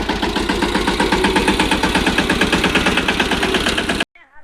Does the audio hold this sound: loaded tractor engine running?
yes